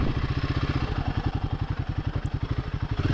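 A 2025 Royal Enfield Himalayan climbs a rough, slippery hill road in a low gear, its single-cylinder engine thumping in a steady, rapid pulse close by, with faint clatter and no talking.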